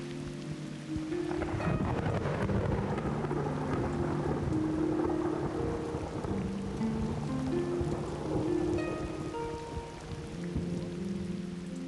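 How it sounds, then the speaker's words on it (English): Thunderstorm with heavy rain over the River Cam in Cambridge, dense hissing rainfall on the water's surface under a deep rolling rumble of thunder that swells and fades across the whole stretch. "Swimming in a storm."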